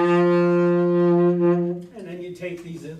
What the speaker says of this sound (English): But this is a tenor saxophone.